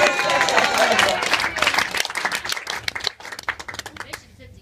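Audience applause and clapping fill a comedy club in Phoenix, loud and dense at first, then thinning into scattered claps that fade out near the end.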